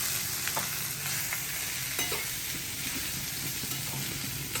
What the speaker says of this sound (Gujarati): ફરી રીતે એને હલાવો.